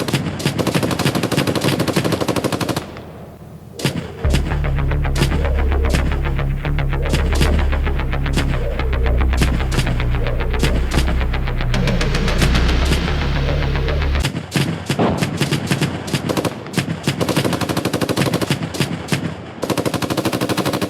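A 7.62 machine gun on an M2 Bradley firing in the PC game Gunner HEAT, with long loud rapid bursts and heavy rumbling booms, sustained and close.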